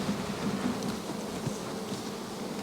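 Honeybees buzz around an opened beehive colony, a steady low droning hum close by with soft fluctuations and a faint knock, and no one speaking.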